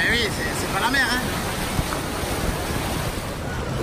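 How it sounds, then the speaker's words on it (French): Small waves roll and wash in a Disney water park wave pool, a continuous broadband surge of water and wind noise up close, with faint voices and a brief tonal call early on. "Bon, il y a des petites vagues là."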